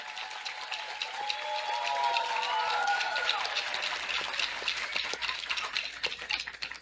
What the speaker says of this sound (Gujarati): Huge round of applause to the kids.